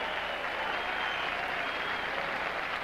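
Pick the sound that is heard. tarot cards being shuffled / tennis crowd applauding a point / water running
tennis crowd applauding a point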